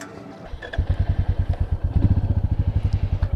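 Royal Enfield Meteor 350 motorcycle pulling away, a close single-cylinder engine thumping in a steady, fast pulsing rhythm that starts after a brief quieter moment and builds slightly as it rolls off.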